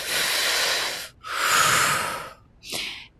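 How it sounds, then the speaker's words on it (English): Conscious, continual breath work: loud, close breaths through the mouth, two long airy inhale-exhale cycles followed by a shorter sharp breath, with brief gaps between. "conscious, continual breath work, which can sound like this"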